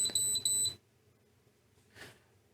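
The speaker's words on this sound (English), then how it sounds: "you can hear the buzzer, that's working through USB" Several short, high electronic beeps from a FrSky R9 RXSR Pilot flight controller buzzer, powered over USB, sound in quick succession, then quiet, followed by a faint brief chirp.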